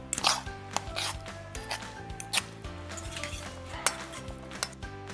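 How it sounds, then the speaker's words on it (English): Tuna sandwich filling mixed in a bowl with a utensil, a continuous series of close clinks, scrapes and taps against the bowl, with no talking. "Now you're going to mix all of this."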